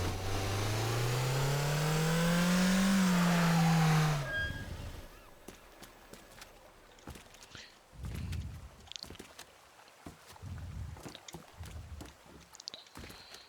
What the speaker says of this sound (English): The way the vehicles drive around is super realistic, and it's really nice to see in a game like this.